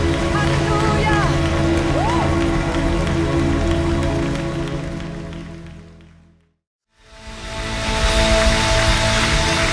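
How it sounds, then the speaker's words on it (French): A church congregation applauds and cheers for Jesus during a worship service, with dense clapping and shouts over music that fade out to near silence mid-clip before the clapping swells back loudly. "Est-ce qu'on peut lancer une acclamation pour Jésus ce matin"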